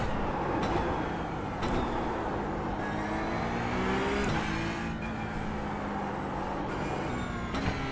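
A race car engine in iRacing drones steadily while driving laps, holding a loud continuous tone that rises and dips with gear shifts and throttle changes, with no talking.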